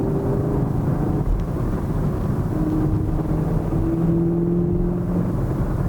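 Engine of a 2020 Chevy Camaro hums steadily from inside the car on a road test drive, a continuous droning tone with slowly shifting pitch and faint road noise, no one speaking.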